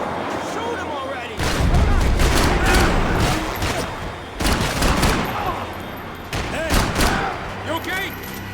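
Heavy gunfire in a video game shootout: sustained bursts of automatic rifle fire and booming shots crackle nearly nonstop, loud and close, with shouting voices mixed under the barrage.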